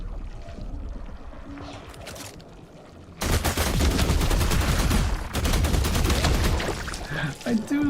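A rifle firing in The Last Caretaker: after a quieter stretch, a loud run of rapid shots rattles on for several seconds, broken by a short pause before more shots.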